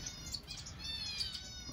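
Small birds in an outdoor aviary chirp and tweet faintly in short, quick high calls over a quiet background, with no talking.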